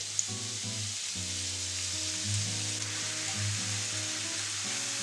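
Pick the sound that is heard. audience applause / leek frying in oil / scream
leek frying in oil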